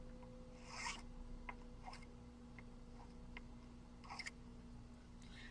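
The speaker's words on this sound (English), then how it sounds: "I've got just a little bit of a burr on this one, so I am going to do the same thing and I'm going to file that away as well" Metal file rasping a burr off a handmade metal earring in a quiet workshop, with a few short soft scraping strokes, faint and close, over a steady low hum.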